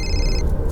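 A telephone bell rings in a brief, bright burst that cuts off abruptly, close and fairly loud over a low background rumble.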